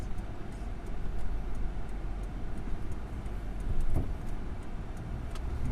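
Steady interior road noise from a car driving toward the beach, a continuous low rumble with faint ticking, one slight swell midway and no talking.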